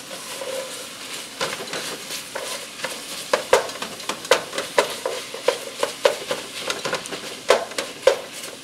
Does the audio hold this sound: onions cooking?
yes